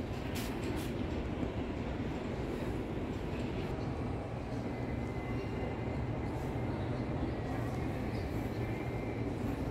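An Amtrak train rumbles at Moynihan Train Station in New York, a low, steady roar that fills the station throughout at an even level.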